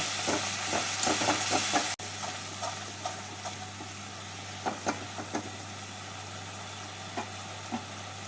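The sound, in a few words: spice paste being fried and stirred for fish curry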